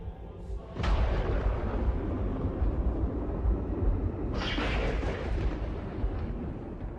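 A sudden deep boom erupts into a sustained, rumbling roar, with a second burst of crackling noise partway through, fairly faint overall.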